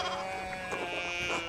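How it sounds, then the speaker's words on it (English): Sheep bleat in the medieval narrative game Pentiment, a steady wavering flock cry carried over a continuous farmyard din, close and moderately loud throughout. "we need to get these sheep under control"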